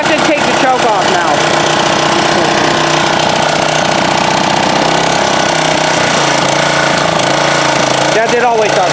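A 1987 Honda HRA214 walk-behind lawnmower engine runs loud and close after its first startup of the season, a continuous rough drone with people talking over it.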